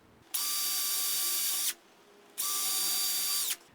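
A power drill bores holes through lumber for workshop storage cabinets, with two loud, even bursts of high motor whine about a second and a half each. A short quiet gap separates them, with no talking.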